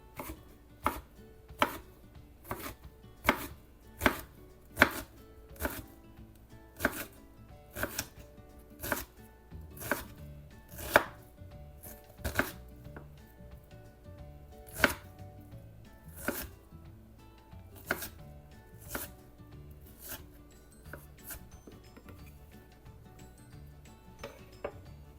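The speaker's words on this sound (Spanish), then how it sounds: "Y este trozo de cebolla también lo voy a estar picando." A knife chops onion for lasagna on a cutting board in a kitchen, sharp, distinct strikes landing in an irregular but steady rhythm, close and clear with quiet gaps between cuts.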